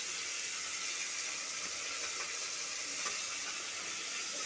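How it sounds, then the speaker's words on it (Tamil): Onions sauté in a hot pan for country chicken gravy, giving a steady, even sizzle and hiss close up with no talking. "இந்த வெங்காயம் பார்த்திங்கன்னா நல்லா வதங்கட்டும்."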